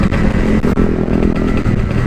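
A Yamaha RX-King two-stroke motorcycle revs hard up close, a loud, raspy, buzzing engine note with rapid throttle blips and a rough, crackling texture.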